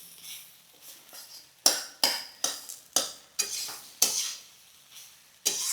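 Spoon stirring ginger paste into a Bengali hilsa fish head curry in a pan, a series of sharp scraping strokes with faint sizzling between them, close and alone.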